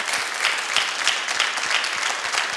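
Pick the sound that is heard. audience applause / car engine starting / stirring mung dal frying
audience applause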